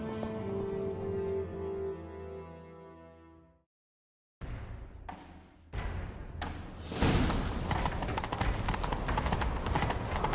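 Rapid clip-clop of horse hooves galloping in a video game, loud and close, after a brief musical passage and a moment of silence, with thuds and rising noise.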